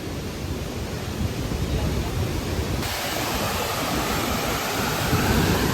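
Athirappilly waterfall in the rainforest roars as a steady, broad rushing wash of falling water, constant and fairly loud with no distinct breaks.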